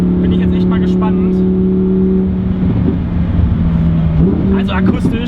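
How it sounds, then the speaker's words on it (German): A Lamborghini Huracan Evo with a V10 engine accelerates, its loud, steady engine drone holding pitch and then shifting as the revs change, with a voice heard briefly over it. "Also akustisch brennt der V10 jetzt schon ein absolutes Feuerwerk ab."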